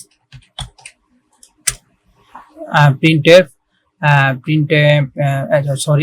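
Sparse clicks of a computer keyboard as printf code is typed, a few isolated taps followed by someone speaking over the quiet keys.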